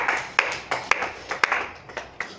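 A church congregation claps in a steady rhythmic beat, sharp hand claps roughly every half second, close and fairly loud, with no one talking.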